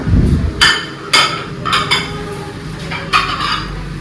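Dishes and plates are set down and shifted one by one, giving a series of distinct, close ceramic clinks and knocks spaced irregularly over a quiet room.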